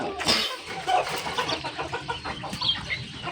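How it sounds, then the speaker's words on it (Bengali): Farm ducks calling for food, a run of repeated clucking quacks close by, steady and fairly loud, with light background noise. "ওই যে আমার ওইখানে হাঁসগুলো কিন্তু খাবার চাইতেছে"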